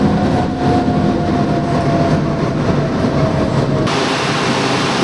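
A Kuala Lumpur metro train runs with a loud, steady rumble and rattle of carriages. The noise fills the whole stretch, and a slight shift in tone comes near the end. No voices.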